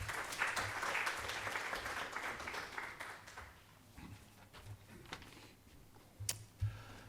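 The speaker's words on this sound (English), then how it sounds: "Rounds of applause." Conference audience applause at Hamad bin Khalifa University, quiet and distant clapping that thins out over several seconds, with a few sharper isolated claps near the end.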